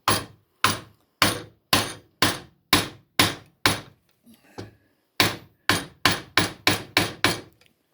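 A wooden mallet strikes a chisel cutting into wood for a handmade chair. The blows are sharp, close and evenly spaced, seven in a row, then a brief pause with faint shuffling, then another quicker run of seven.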